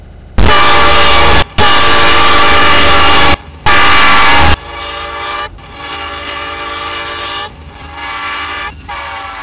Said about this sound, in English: this is a typical locomotive like you'd see hauling freight here